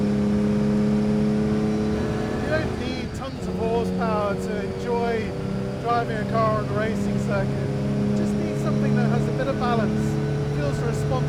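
Steady engine drone from a 1954 Aston Martin DB2/4 on track, held at a constant, close hum with slight pitch shifts, while someone talks over it for most of the stretch.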